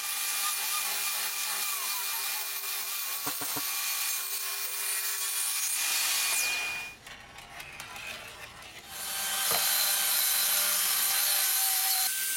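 A hand saw cuts through a teak board from an old garden table in steady, rasping back-and-forth strokes, pausing briefly midway before the sawing resumes loud and close.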